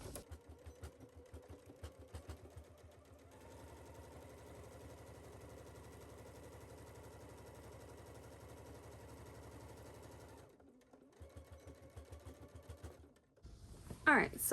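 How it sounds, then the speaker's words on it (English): A sewing machine runs a top stitch along a pants seam, giving a fast, even mechanical chatter that lasts several seconds. Quieter handling sounds come before and after it. "now I'm gonna do a top stitch across this line here"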